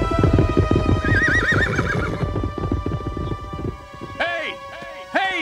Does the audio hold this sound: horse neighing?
yes